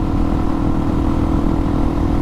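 A Suzuki DRZ400SM supermoto motorcycle engine runs steadily and loud up close, with a dense continuous drone and no clear rise or fall in revs across the short stretch.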